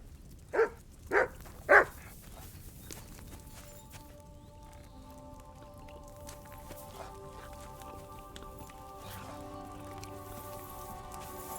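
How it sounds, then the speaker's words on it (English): A dog in the medieval video game Kingdom Come: Deliverance II gives three quick barks close by, followed by quieter ambient game sound with soft tonal music in a rainy setting. "You silly doggy."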